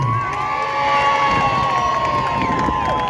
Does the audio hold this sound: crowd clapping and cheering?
yes